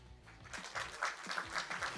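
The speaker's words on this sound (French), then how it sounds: "On applaudit Val." Brief applause from a small audience at a Nantes fashion show event, a soft patter of clapping building over two seconds, fairly distant and modest in volume.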